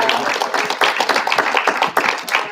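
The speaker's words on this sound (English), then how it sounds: "Big round of applause for everyone." An audience claps for the contestants at an Anchor Point school spelling bee. The clapping is brisk and dense, lasting only a couple of seconds.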